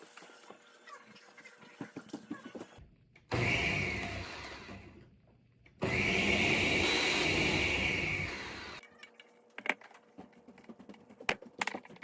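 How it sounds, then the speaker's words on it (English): Kitchen blender chopping fresh basil leaves, two loud sustained whirring bursts of a few seconds each with a short pause between, set apart from quieter clattering before and after. "gonna pull some of these off, get them in the blender"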